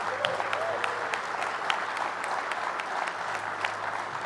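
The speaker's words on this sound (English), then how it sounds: "So give a round of applause for those guys." An audience at a homebrew competition awards ceremony claps steadily, a fairly even round of applause with scattered sharper claps and faint crowd murmur.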